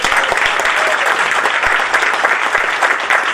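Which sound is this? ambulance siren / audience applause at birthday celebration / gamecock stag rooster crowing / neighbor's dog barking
audience applause at birthday celebration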